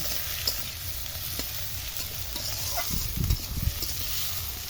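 Chopped onions and chilies frying in hot oil, a steady low sizzle and hiss throughout with a few stirring scrapes near the end, no talk.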